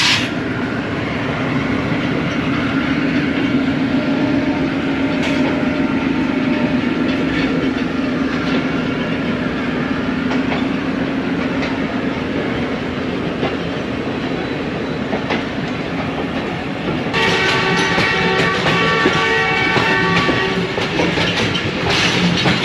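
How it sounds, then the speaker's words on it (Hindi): Ravi Express passenger train running through Lahore, a loud continuous rumble and rattle of wheels on track, heard from on board, with a brighter burst of clatter near the end. "अभी ट्रेन लाहौर में से ही गुजर रही है।"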